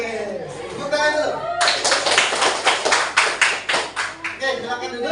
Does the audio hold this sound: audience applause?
yes